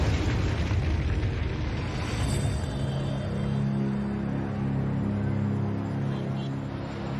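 A deep, sustained rumbling roar of a nuclear explosion sound effect fills the clip, loud and steady, with a low drone lingering beneath.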